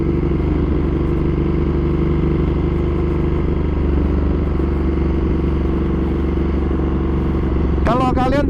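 A 2015 Ducati Monster 1200S ridden in touring mode: a loud, close, steady engine drone with deep low rumble and mid clatter held throughout, then a brief whining rise near the end as the revs climb.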